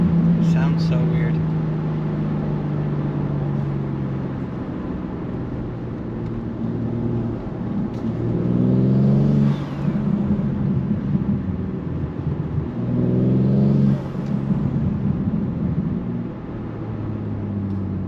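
A BMW M3 fitted with a BMS intake drives along under a constant road drone, and the engine swells twice in rising revs. Voices may be present in the cabin.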